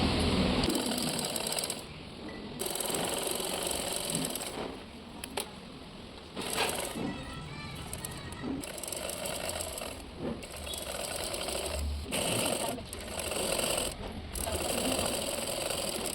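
A sewing machine stitches a collared Panjabi dress in bursts of rapid, rattling mechanical clatter, stopping briefly several times between runs, loud and close with no talking.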